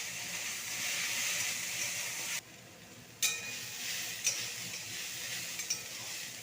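Sliced banana stem frying in a pan, stirred with a utensil: a steady close sizzle broken by a brief drop, then sharp spoon scrapes and clinks over the continuing hiss.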